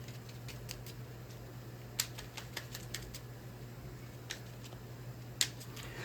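Tarot cards being pulled and shuffled, with faint, sparse light clicks and soft card snaps scattered over a quiet steady hum, a couple of sharper taps standing out.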